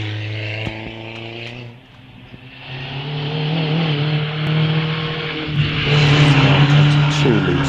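A historic race car accelerates up a hillclimb course, its engine note rising and swelling louder as it approaches, with a voice commentating over it.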